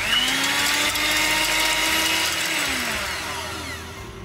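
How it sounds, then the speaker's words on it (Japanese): An electric hand mixer whipping room-temperature whole eggs and egg whites for tiramisu, a steady high motor whine with beaters churning, running alone and slowly fading. "ではハンドミキサーで混ぜていきますね。"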